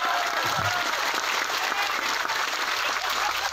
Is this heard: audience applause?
yes